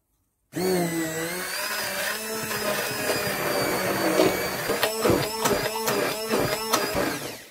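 A hand blender motor whirs steadily through tangerine cake batter, its pitch wavering, then pulses in a rapid series of short bursts near the end.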